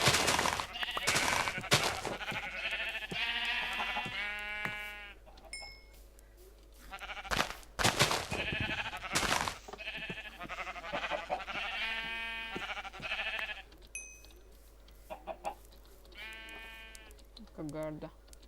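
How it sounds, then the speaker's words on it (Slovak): Blocky sheep in Minecraft bleat repeatedly in an acacia biome, several short wavering cries scattered among steady talking. "Je, ovečky. Super. Ovce sú dobré."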